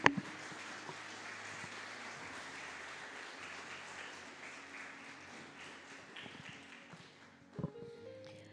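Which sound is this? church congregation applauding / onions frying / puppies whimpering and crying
church congregation applauding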